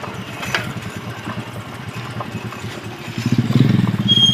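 A motorcycle engine running nearby, a low throbbing putter with rhythmic pulses that swells louder as it revs in the final second.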